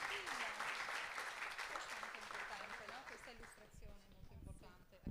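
Audience applause at a reading event, a moderate burst of clapping that thins out toward the end, with a voice speaking over it.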